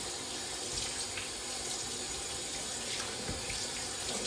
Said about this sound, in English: So I am just going to drain them now and rinse them.